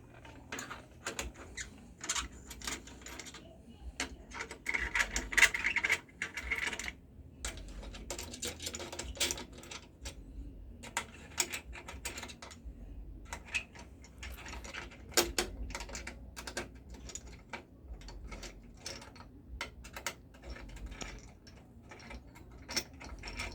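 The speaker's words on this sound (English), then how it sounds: "Now we are going to take the piston off." Tools working on a machine to remove a piston, with irregular close metallic clicks, ratcheting and clanks scattered through a quiet room.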